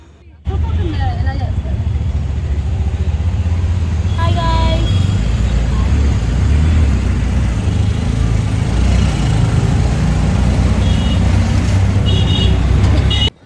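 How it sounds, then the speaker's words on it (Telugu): An auto-rickshaw leaving Jaipur railway station for a hotel drones loudly and steadily through city traffic, its close engine rumble constant throughout, with brief horn beeps and passing vehicles mixed in. "మేము జైపూర్ రైల్వే స్టేషన్ నుంచి మా హోటల్కి ఆటోలో స్టార్ట్ అయిపోయాం."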